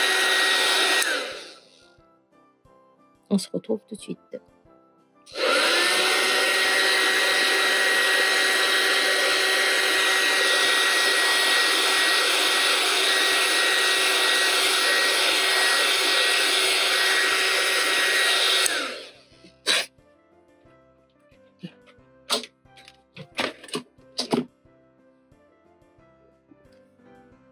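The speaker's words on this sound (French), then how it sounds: "j'ai un pistolet chauffant, un heat gun." A heat gun blows hot air in a long, steady roar for about thirteen seconds, close and loud, with brief handling clicks and a short spoken line around it.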